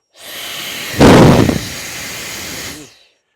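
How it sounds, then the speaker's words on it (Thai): A quieter cordless blower with a metal fan blows a steady, breathy rush of air like a hair dryer, surging louder for about half a second midway before it settles and stops. It sounds close, with no talking. "ตัวนี้มันจะเป็นเหมือนเสียงลมอย่างเดียวเลย เสียงเหมือนไดเป่าผมอ่ะ"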